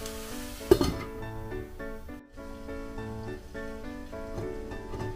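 Pork leg fries in its own rendered fat in a Saladmaster skillet, giving a steady close sizzle with a brief clink near the start, partly under melodic background music.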